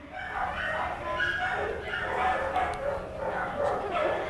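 A lab mix dog at an animal shelter barks and yips in repeated bursts, fairly close, with other dogs and voices mixed into the noisy kennel background.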